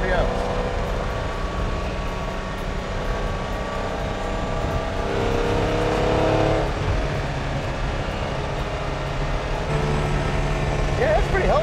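A classic Bugatti or Maserati high-speed touring car engine running steadily in third gear at about 4,000 RPM, a continuous loud drone with road and wind noise throughout and voices talking over it at times.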